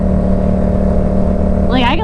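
A GS-07 engine runs steadily and loudly on throttle while climbing Pikes Peak, with a constant low drone throughout and a voice breaking in near the end.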